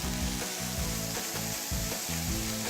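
A pound of ground turkey fries in a pan while being broken up, a close, dense sizzle with rhythmic scraping pulses from the utensil roughly every half second, no speech.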